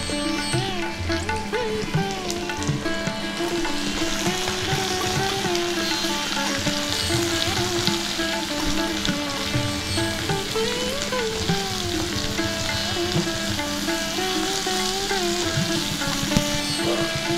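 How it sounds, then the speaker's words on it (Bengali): Mixed vegetables with chopped capsicum, salt and black pepper sautéing in a pan for restaurant-style gravy noodles, a loud, continuous dense sizzle with faint scraping of a stirring utensil throughout, no voices. "সবজিগুলো সতে করা হয়ে গেছে।"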